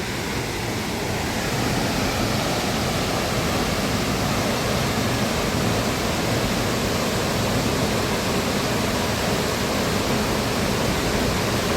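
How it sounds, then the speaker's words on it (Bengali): Hundru Falls in Jharkhand, heard up close as a dense, continuous broadband roar of crashing water that holds steady and loud from start to finish. "হুড্রু ফলসের দৃশ্যটা হচ্ছে ঠিক এরকম"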